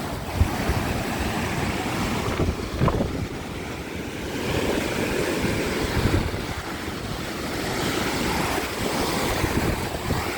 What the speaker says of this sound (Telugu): ఇక్కడ వర్షం అయితే వస్తుందండి